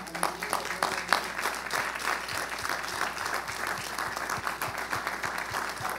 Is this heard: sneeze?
no